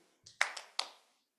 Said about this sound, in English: 1 clap